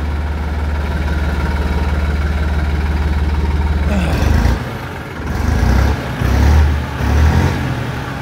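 A Massey Ferguson 9500 Smart tractor with 376 hours of use, started off a battery, idles with a steady low diesel throb for about four seconds, then its note shifts and dips in uneven surges as the engine is worked.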